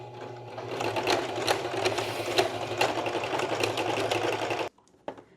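A sewing machine stitches shirring at a fast, steady clatter, loud and close for several seconds before stopping abruptly, followed by a brief mechanical clunk.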